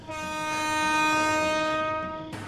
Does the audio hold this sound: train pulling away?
yes